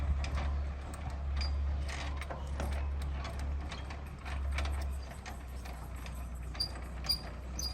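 A caravan jockey wheel is wound up by hand, its ratchet giving off a steady run of close, dry mechanical clicks over a low hum, with no one speaking.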